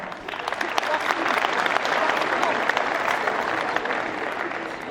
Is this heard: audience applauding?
yes